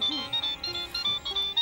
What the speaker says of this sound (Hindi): अरे शालिनी का फोन है।